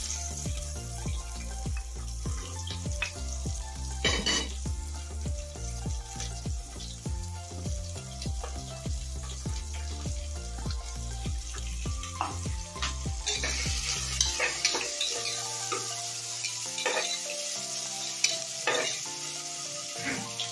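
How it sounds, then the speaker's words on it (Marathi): Chopped onion being sautéed in a pressure cooker for masala rice, a continuous close sizzle broken by frequent stirring scrapes and taps of a spoon against the metal, the low hum dropping away near the end. "कांदा थोडस परतून घ्यायचा मस्त पैकी नम झाले"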